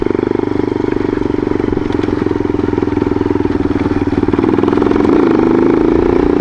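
A Yamaha XT 225 motorcycle engine putters steadily up close, a loud, even single-cylinder chug that swells slightly toward the end.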